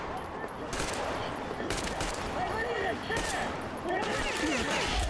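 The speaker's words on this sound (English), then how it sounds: "I'm just gonna shoot them." Rapid gunfire in a first-person shooter video game, a dense continuous fusillade of shots with game sounds, players talking over it.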